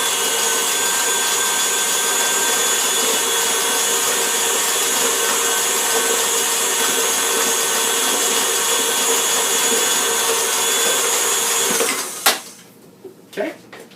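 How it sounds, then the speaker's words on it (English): An electric mixer running on high while beating fudge icing, a loud, steady whirring drone close by that cuts off abruptly near the end, followed by a few bowl knocks. "I'm going to turn the mixer to high and give it a good beat for about 15 to 20"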